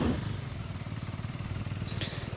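Motorcycle on a long two-up bike trip through monsoon Maharashtra, a steady, pulsing engine drone with even rapid throbbing, close and continuous, with a brief higher hiss near the end.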